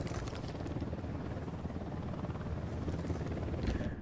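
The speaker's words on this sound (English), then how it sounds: "Helicopter inbound." In the video game Ghost Recon Wildlands, a helicopter draws near with a steady, dense rotor and engine rumble that stays constant and fairly faint throughout, with no voices.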